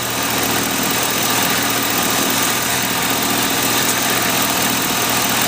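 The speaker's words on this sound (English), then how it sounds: "Let me turn off the engine really quick." A car engine idles steadily and loudly with a low mechanical hum, close by and continuous with no talking, while the vehicle sits parked during a fluid-level check.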